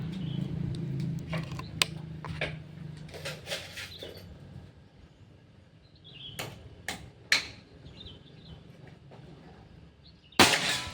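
Several sharp, snappy air rifle shots, from a Predator Pajero Gen 6, ring out at irregular intervals during an accuracy test over a quiet background, with one louder crack near the end.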